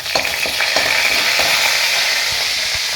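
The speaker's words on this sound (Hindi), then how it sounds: "मिर्ची और जीरे से ही छौंक लगाऊंगी बस इसका। और थोड़ा सा ये चटक जाएगा" Chili and cumin temper in hot oil, crackling and sizzling steadily with sharp pops, close and loud with no talk.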